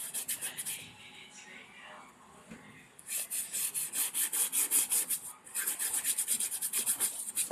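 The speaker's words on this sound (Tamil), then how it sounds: "நல்லா தேய்ச்சிட்டு சைடு முடிச்சாச்சு." Rhythmic rasping strokes of sanding or rubbing along the sides of a homemade box, a pause of softer scraping midway, then steady repeated back-and-forth rubs close by, fairly loud and without talk.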